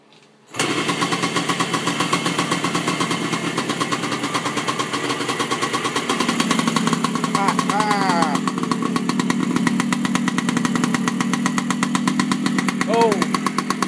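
A 1975 Suzuki TS 125 two-stroke motorcycle fires up and keeps running, a loud, close, rapid buzzing putter with throttle blips, after a fuel-leak repair at the petcock gaskets; a voice briefly speaks over it.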